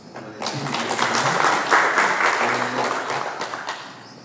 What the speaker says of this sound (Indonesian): kita tepuk tangan untuk